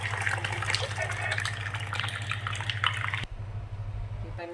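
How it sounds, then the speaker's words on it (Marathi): Cooked dal for Rajasthani dal bati is poured into a pan with a little water already added, giving a steady wet gushing splash that stops abruptly, heard close over a low kitchen hum. "तर ही सगळी डाळ मी याच्यात ओतून घेणार आहे."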